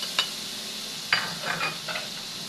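Garlic and onion sauté in a pan for a home-cooked monggo dish, a low sizzle under a few sharp clinks and scrapes of a spatula against the pan, no voices.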